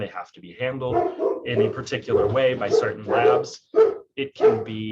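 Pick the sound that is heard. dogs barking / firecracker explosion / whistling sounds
dogs barking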